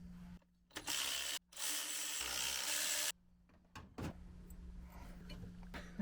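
A 9/16 ratchet works loose the bottom pulley bolts on a 1968 Ford Mustang engine, with loud bursts of rapid clicking broken by pauses and some clanks, close up.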